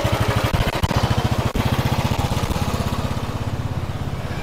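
A Bullet motorcycle engine running steadily nearby, a fast, even low thumping beat that holds throughout, slightly fading toward the end as the bike pulls away.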